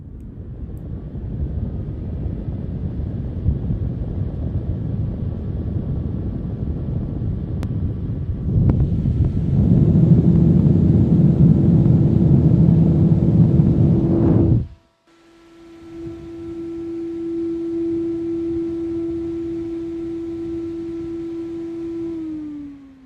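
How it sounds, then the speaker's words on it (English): A Corsair static pressure fan spinning in a GPU mining frame, a loud steady whooshing hum with a sustained tonal whine that cuts off abruptly, then spins back up and runs on. "next we'll hear the sound of a Corsair static pressure fan."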